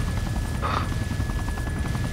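Helicopter in a military video game mission, a steady loud rotor thrum with rhythmic blade chop continuing throughout, alone with no talk.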